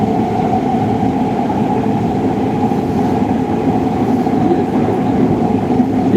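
A metro train ride in a city on a rainy spring day: a loud, steady rumble of wheels and carriage noise fills the whole span, with no talk.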